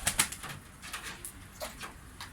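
Pigeons in a Turkish backyard coop, with soft cooing and a few bursts of wing flapping near the start, followed by scattered lighter flutters and rustles at close range.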